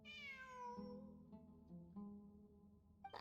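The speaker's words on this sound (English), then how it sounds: "It really is a cat." A cat in the video game Genshin Impact meows in long, drawn-out, wavering cries, heard clearly over a steady low hum of game ambience.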